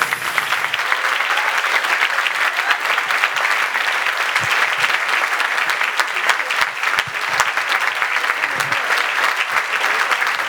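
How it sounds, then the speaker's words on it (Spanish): A live concert audience gives sustained, dense applause for the singer Beatriz, a loud, even wash of many hands clapping throughout with no voices standing out. "Por favor, un aplauso para Beatriz."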